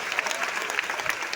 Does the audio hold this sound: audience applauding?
yes